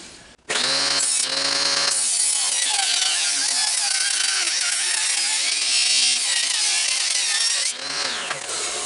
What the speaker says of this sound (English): the board keeps wanting to ride up. That's because my saw blade's sort of dull.